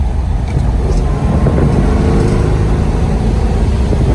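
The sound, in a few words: 1970 Plymouth Cuda Hemi 5-speed accelerating on the road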